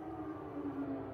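A steady wailing air raid siren drones faintly in the distance, sustained and unbroken.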